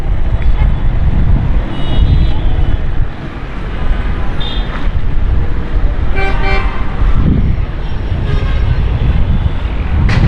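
Dense road traffic passing near the Munawar Chowrangi underpass in Gulistan-e-Johar, a loud steady roar of engines with several short car horn toots scattered through, close and continuous throughout.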